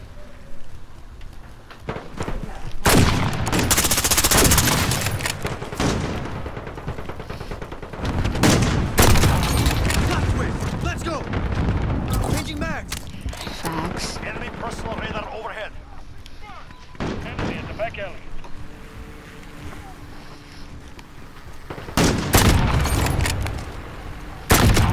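Sniper fire from an SPR rifle with no attachments in a shooter video game, with repeated loud close gunshots and bursts from other weapons spread across the scene, mixed with an excited voice talking over the action.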